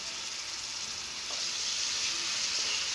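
Tomatoes and green chili sizzling in a pan over a medium flame, a continuous bright frying hiss that swells slightly louder partway through, with no voices.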